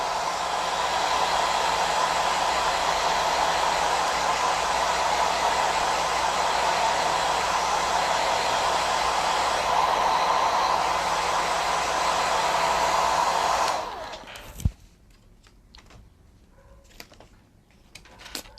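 A hair dryer blows steadily for about fourteen seconds, drying watercolor paint on a decorated piece, then switches off, leaving a few faint clicks and handling knocks in a quiet room.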